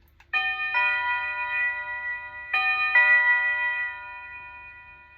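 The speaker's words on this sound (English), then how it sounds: "church bells" A doorbell chime plays a church-bell tone, ringing clear metallic bell strikes in a couple of clusters with long sustained tones and reverb, fairly close in a quiet room.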